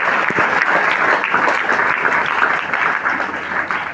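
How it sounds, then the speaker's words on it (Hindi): An audience at a sports festival registration launch bursts into sustained clapping, dense and loud, holding steady for several seconds before easing slightly at the end, with no talk over it. "और इन कार्यक्रमों के संचालन के लिए शिक्षा विभाग से भी 2 लोग आए हैं, विजय वर्की जी और राजेंद्र जी पंड्या। ताली बजाओ दोनों लोग"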